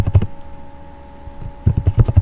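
Typing on a computer keyboard while coding an ASP.NET Core online examination system, with two quick bursts of close, loud keystrokes separated by a quiet pause and no talk.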